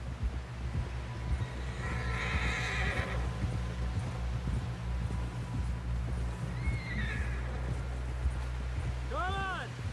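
Horses in a video game neighing and clip-clopping at a gallop through a camp setting, hoofbeats steady under background ambience with a whinny near the end, while voices talk over it.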